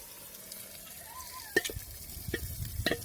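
Oil sizzles steadily in a pan of frying eggplant while a utensil scrapes and clatters against it in irregular knocks.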